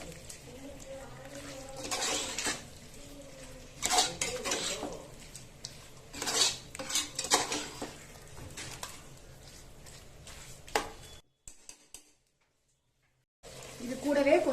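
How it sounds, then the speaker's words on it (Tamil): Green chicken masala with green chillies being stirred in a pan, a sequence of scraping, clinking spoon strokes against metal with soft sizzling beneath, broken by a brief silent pause near the end before stirring resumes. "இது எல்லாம் சேர்த்து நல்லா கிளறி விட்டுலாம்."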